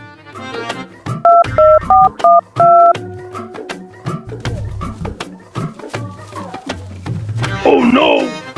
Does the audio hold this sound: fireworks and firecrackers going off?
no